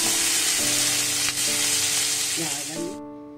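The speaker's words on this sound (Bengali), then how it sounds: "এই যে লাউয়ের খোসাটা, এর মধ্যে দুটো কাঁচা লঙ্কাও ফেলে দিয়েছি।" Bottle gourd peel and two green chilies sizzle loudly in hot oil, a dense close hiss with some stirring, cutting off sharply near the end as faint tonal hum remains.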